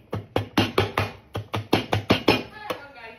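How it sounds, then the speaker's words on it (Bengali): Cadbury chocolate pounded in a mortar and pestle, giving about a dozen sharp, close knocks in a steady rhythm with no talking. "সুন্দরভাবে হামানদিস্তা দিয়ে গুঁড়ো করবেন"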